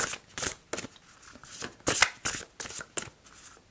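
Oracle cards shuffled by hand at a French spiritual reading, a string of crisp, papery riffling bursts coming in uneven pulses, close and clear with no talking over them.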